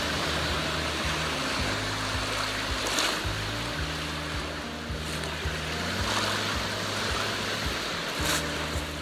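Loch Ness water lapping at the shore: a steady broadband wash of water and wind noise, with background music playing low underneath throughout and no voices.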